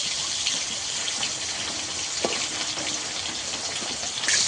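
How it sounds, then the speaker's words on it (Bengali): Fish frying in hot oil while being turned until browned, giving a close, steady roaring sizzle with occasional sharp pops and a louder burst at the end. "মাছগুলোকে উল্টে পাল্টে ভালো করে লাল করে ভেজে নেব একদম।"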